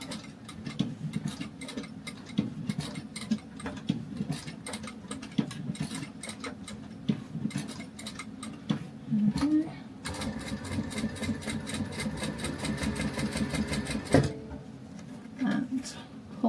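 A hand-cranked sewing machine stitches pocket card holders in a series of quick, regular mechanical ticks and clicks, with a denser whirring run near the end, fairly close and moderate in level.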